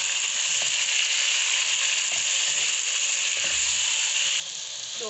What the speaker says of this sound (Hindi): एक से 2 मिनट के लिए हम इसको अच्छे से कर लेंगे फ्राई, ऐसे टमाटर में घी के साथ।